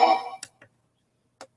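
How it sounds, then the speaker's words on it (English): A ghost box running a delay effect gives a burst of sound that fades into a few short, spaced echo repeats, each quieter than the last, ending in a faint isolated tap. "that's an actual delay function"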